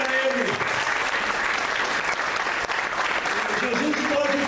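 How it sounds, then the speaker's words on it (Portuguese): A church congregation claps steadily and densely throughout, with a faint voice and sustained musical tones underneath during a worship service. "Se você crê, aplauda a Ele"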